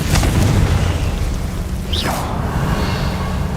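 Confringo blasting spell in Hogwarts Legacy, a loud dense booming blast with a rushing roar and a brief rising whoosh midway, sustained and close throughout, no talk.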